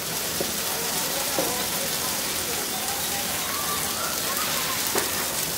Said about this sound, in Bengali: আমি খুব কম আঁচে ভাজতেছি যাতে তলাটা পুড়ে না যায়